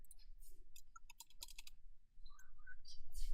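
Quick clicks from a computer keyboard being typed on during a podcast, scattered irregular taps, near and moderately loud, with no speech over them.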